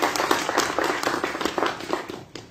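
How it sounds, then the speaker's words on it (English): Brief round of applause at a golf sponsorship launch, a modest crowd clapping unevenly with distinct individual claps, close and moderately loud. "May we give them a round of applause."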